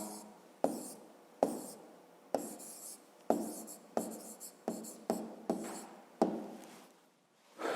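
Pen strokes write an answer by hand on paper, a run of about nine distinct scratchy strokes with short pauses between them, close and clear.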